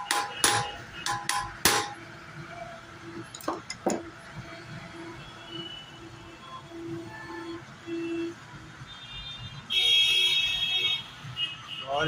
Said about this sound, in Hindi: हथौड़ी की मदद से इसको थोड़ा अंदर की ओर पुश करेंगे।